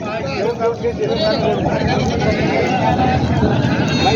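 Goats bleat at a large, crowded goat market in Bolda, Maharashtra, with several wavering cries rising over steady crowd chatter and people talking nearby.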